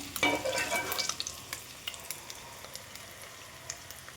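Eggs fry in an oiled pan for a Telugu green-chilli egg curry, a steady close sizzle with a louder burst of crackling at the start, then a softer hiss broken by faint scraping ticks.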